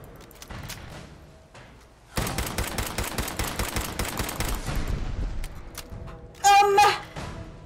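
Pistol shots from a tiny handgun in Fallout 4, a burst of sharp gunfire cracks through the middle of the clip over game sounds, with a loud blast near the end.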